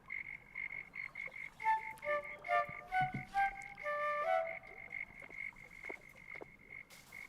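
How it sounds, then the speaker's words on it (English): Frogs croak over a nighttime lakeside scene near a small fishing pier in a video game, a steady chorus of repeated calls over a constant high ambient hum, with bright tonal chirps stacked in the middle. "Can you hear the frogs?"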